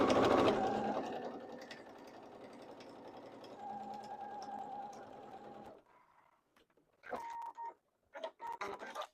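A sewing machine top stitches the folded hem of a fabric apron, running steadily for several seconds, then stopping and restarting in short bursts.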